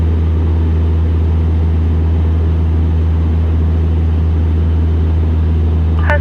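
A Husky tailwheel airplane in flight makes a loud, constant propeller and engine drone throughout, with no voices.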